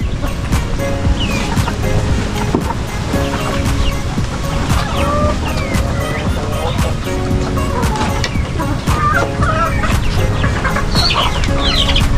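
Chickens, including young pullets, cluck and chatter continuously over a loud, steady background rush of typhoon weather, with a busy flock close by.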